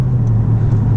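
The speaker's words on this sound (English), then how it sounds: "one thing I don't really like is the rev hang in this car" Steady mid-pitched engine drone from a manual car with noticeable rev hang between gear shifts, a constant close rumble with no voices.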